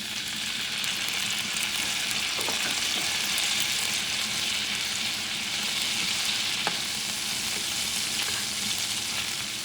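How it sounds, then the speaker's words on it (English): Butter melting in a hot pan gives a steady, close, continuous sizzle and crackle with a few faint stirring ticks, and no talk over it. "Just a little bit of butter, As it melts, you can add your vinegar."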